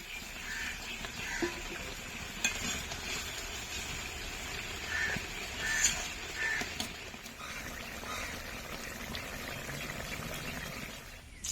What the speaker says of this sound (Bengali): মাছগুলোকে দিয়ে দেবো এখন।